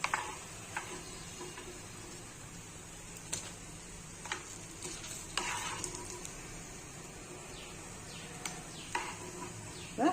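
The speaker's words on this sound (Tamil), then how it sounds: "இது ஒரു நாலஞ்சு பரட்டு பரட்டு தான் அவ்வளோதான் அது வெந்துடும்" Banana flower being stir-fried in a pan: a steady low sizzle runs throughout, with occasional soft clicks and taps of a spatula against the pan.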